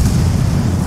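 A grenade blast in the video game Ghost Recon Wildlands: a loud, deep, rolling boom that fills the whole second with heavy low rumble and no clear onset or decay.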